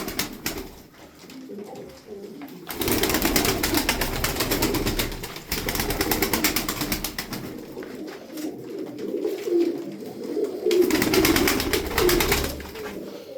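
Malatya tumbler pigeons coo in a loft, a steady layered murmur of soft throaty calls running throughout with occasional wing rustles and a few brief louder coos near the end.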